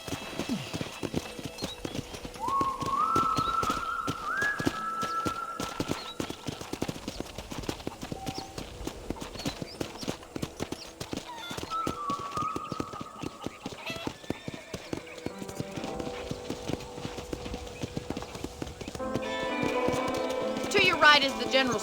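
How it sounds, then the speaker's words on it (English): Horse hooves clop rhythmically in the Red Dead Redemption video game, steady riding beats under continuous character dialogue, with a brief whinny-like tone and background music swelling near the end. "let's see if you can still ride a horse."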